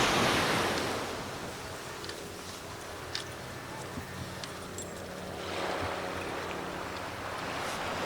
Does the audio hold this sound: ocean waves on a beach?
yes